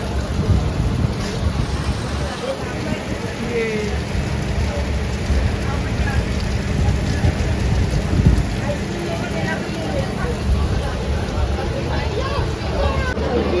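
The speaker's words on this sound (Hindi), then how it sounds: "और ये देखो बारिश कितनी तेज़ होगी" Heavy rain pours down outside the Tezgam Express on a journey from Rawalpindi to Karachi, a dense steady hiss mixed with wind and train rumble, while someone talks over it and other voices murmur nearby.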